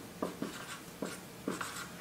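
Pen or marker strokes scratch across a board in short bursts while a rhombus is drawn out for a geometry problem, close and quiet with no talking.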